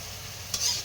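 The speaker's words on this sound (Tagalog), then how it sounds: "Magluto ko ng utang Bisaya guys" A Bisaya vegetable dish cooking in a pan, a soft steady sizzle with a brief stir or clatter near the end, close and fairly quiet.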